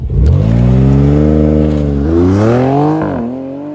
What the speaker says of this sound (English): This is also all-wheel drive, so the launch control is pretty quick.